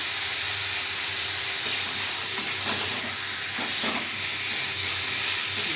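Potatoes fry in a pan of cooked spices as a little water is added, producing a continuous close sizzle and hiss with faint scraping and stirring noises, no voices.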